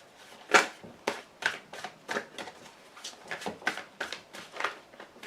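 Playing cards shuffled and drawn one after another during a tarot-style reading, giving a steady run of soft, papery riffles and flicks, close and fairly quiet, with no talking.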